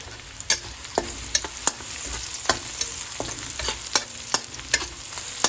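Menudo pork browning in a pan: a steady close sizzle broken by regular sharp clacks of a spatula stirring against the pan, roughly one every half second, with no voices.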